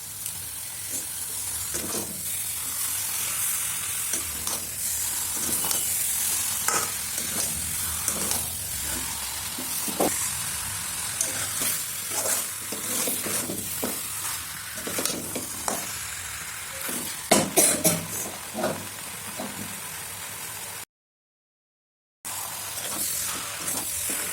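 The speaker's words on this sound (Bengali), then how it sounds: "আর মশলার সাথে মাংস ভালো করে নাড়তে থাকুন।" Meat fries with spices in a dry pan, no water added, and is stirred constantly. Close, crackling sizzle and hiss carry on with repeated scraping stirs, building to a louder clatter before a brief drop to silence near the end.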